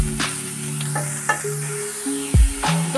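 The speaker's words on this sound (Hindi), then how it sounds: "अब इनको 2 से 3 मिनट तक फ्राई कर लेंगे हल्का सा।" Green onions and beans fry in a pan while a hot winter soup is being made, giving a steady close sizzle broken by a few stirring scrapes and clanks, with no voices.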